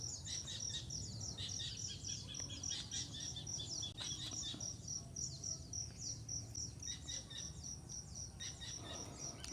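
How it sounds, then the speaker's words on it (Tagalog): Birds chirping on a small farm in rainy weather, many quick, high repeated tweets in clustered bursts over a steady low rumble of background noise, faint and distant with no talk. "Sarap pakinggan ng mga huni ng ibon, no?"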